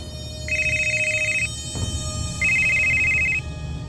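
A telephone rings with two loud, clear electronic bursts about a second long, separated by a short pause.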